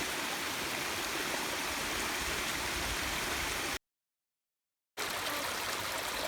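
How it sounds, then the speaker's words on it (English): A mountain stream and waterfall rush steadily with broadband, hissing water noise, continuous and fairly close, broken once by a brief gap of silence before resuming. "there's the waterfall below us."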